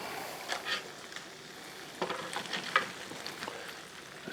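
Peanuts deep fry in a pot of hot oil, giving a quiet, steady bubbling sizzle with scattered soft pops and crackles, faint and without any talk.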